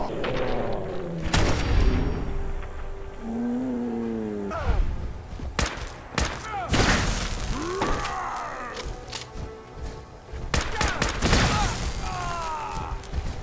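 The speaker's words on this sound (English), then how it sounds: "Are they using a Tesla cannon on me?" Tesla cannon blasts and heavy gunfire erupt repeatedly in a Fallout 4 battle against the Enclave, with sharp loud bursts, mechanical clanks and groaning effects layered over dense game noise.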